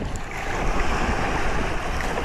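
Rough, choppy Pacific sea churns and splashes continuously, waves 3 to 4 feet, under gusting wind buffeting the microphone, a loud, unbroken wash of sea noise.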